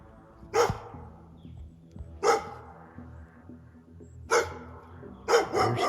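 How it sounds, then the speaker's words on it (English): Dogs bark out in rural Kentucky back country, four separate bursts spaced a second or two apart, the last pair coming close together, moderately distant against quiet outdoor ambience. "I'm gonna start walking back down here and try to get away from these dogs."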